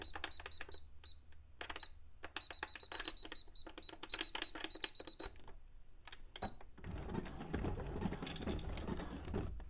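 A sewing machine running a zigzag stitch on a miniature-townscape cone-shaped cape, in quick rapid-fire mechanical ticking bursts with short pauses, then giving way to a louder, denser rushing clatter near the end.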